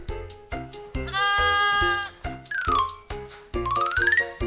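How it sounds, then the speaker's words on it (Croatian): A lamb bleats in a children's animal-guessing game, several wavering cries over a bouncy backing melody with bell-like chimes, clear and close. "Tako je, to je janje."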